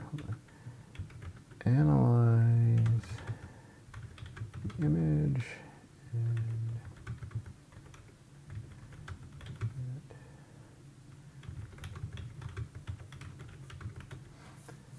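Keys clatter on a computer keyboard as a prompt is typed, a quick run of soft clicks close by, with a person speaking over parts of it.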